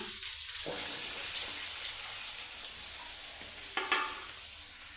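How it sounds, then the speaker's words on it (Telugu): Chopped onions frying in a pan for egg curry, a loud steady sizzle with stirring scrapes and a couple of clinks near the end, no talking. "ఇప్పుడు మనము ఆల్రెడీ కట్ చేసి పెట్టుకున్న ఉల్లిపాయలు అయితే వేస్తున్నాను"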